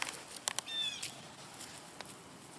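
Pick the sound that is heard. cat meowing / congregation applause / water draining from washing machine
cat meowing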